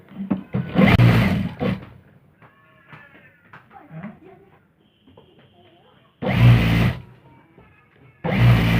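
Sewing machine stitching a salwar leg, running in three loud bursts of about a second or two each, separated by quieter handling of fabric and faint speech.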